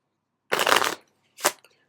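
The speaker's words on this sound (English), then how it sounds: "you do your double undercut, you do your riffle shuffle" A deck of playing cards is riffle shuffled close by: a quick half-second burst of fluttering card flicks, then a short snap as the cards bridge together, with no talking.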